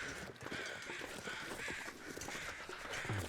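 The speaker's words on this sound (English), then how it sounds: "Lord, crows everywhere." Crows cawing repeatedly in the snowy wilderness of The Long Dark survival game, harsh overlapping calls rising and falling over a steady wind-like background, fairly faint and without speech.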